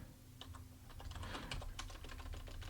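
Quick typing on a computer keyboard, a close run of crisp key clicks at an uneven, fast rhythm over a low background hum.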